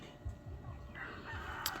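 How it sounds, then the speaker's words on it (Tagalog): A rooster crows once in the open air on a hot day outside a home, the call fairly close and clear above faint outdoor background noise. "mayroon pong manok dyan oh"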